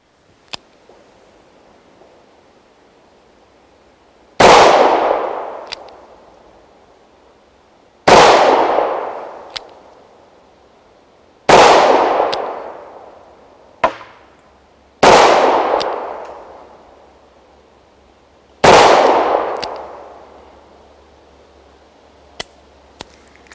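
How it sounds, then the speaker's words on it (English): Five loud, close gunshots from a Taurus Ultralite .38 Special snub-nosed revolver at a range, spaced a few seconds apart with ringing decays between, plus a few faint clicks. "Recoil, while not excessive, was noticeable as would be expected from such a lightweight snub-nosed pistol chambered in .38 Special."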